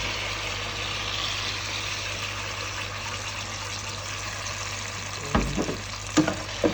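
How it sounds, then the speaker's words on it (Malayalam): Drumstick paste frying in butter for halwa, a continuous close sizzle with stirring, then a few sharper scraping knocks near the end. "എന്നിട്ട് നമുക്ക് ഈ മുരിങ്ങയുടെ പേസ്റ്റ് ഇട്ടെടുക്കാം."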